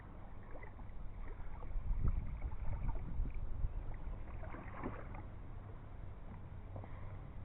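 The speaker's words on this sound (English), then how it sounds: "Out doing a little kayaking." Kayak paddling on water outdoors on a sunny day, with steady watery swishes and splashes from paddle strokes, mixed with light wind noise and a faint background hum.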